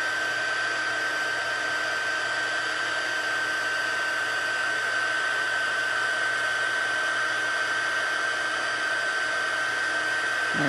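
A heat embossing tool warms one side of a folded card, giving a loud, steady blowing hiss with a constant high whine, unbroken throughout and with no speech.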